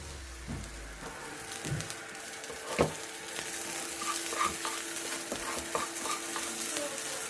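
Sweet zarda rice being stirred and mixed in a pan, a soft continuous scraping and sizzling with occasional light clinks, close and fairly quiet, no talking.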